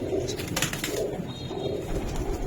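Pakistani highflyer pigeons at a pigeon farm coo in low, repeated murmurs, with steady soft cooing running through the whole stretch and no talking.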